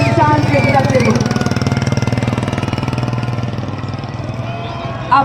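Indian Army Tornado motorcycle team rides in an Apache helicopter formation at an Army Day celebration in Jaipur: a loud, close, steady multi-engine motorcycle drone with a rapid pulsing throb that eases slightly toward the end, a faint voice briefly at the start.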